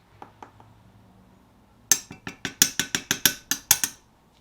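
Liquid plastic with medium red glitter flakes is stirred in a cup, making a quick series of about a dozen sharp ringing clinks after a few faint taps. The sound is close, with no talking.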